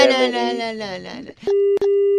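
Phone call cut off: a voice speaking ends and a short gap follows, then a steady, loud busy tone sounds with one brief break, close and clear.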